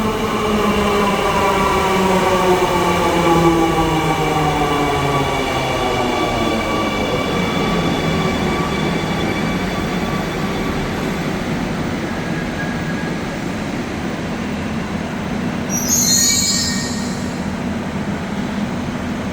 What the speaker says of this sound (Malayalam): ഇതാ തൃപ്പൂണിത്തറ ഭാഗത്തേക്കുള്ളൊരു ട്രെയിൻ വന്നു